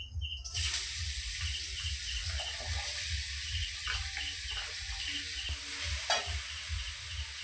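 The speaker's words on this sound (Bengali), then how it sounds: "তেলটা গরম হয়ে গেছে এবার আমি আলুগুলো ভেজে নেব" A sudden burst of sizzling as potatoes hit hot oil, settling into a steady loud hiss with soft spatters, faint bird chirps in the background.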